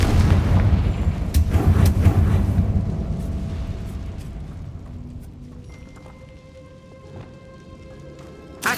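A Confringo spell explodes in the video game Hogwarts Legacy with a loud, booming low blast that rumbles and slowly decays, followed by faint ringing tones and a small thump at the end.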